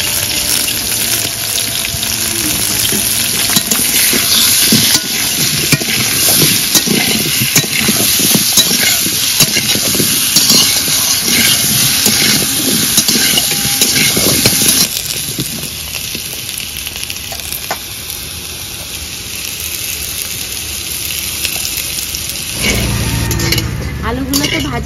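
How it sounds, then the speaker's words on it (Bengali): Potatoes frying with salt in hot oil, a steady broadband sizzle with occasional stirring clatter that thins out in the last seconds. "এবার আলুগুলোও ভেজে নেব।"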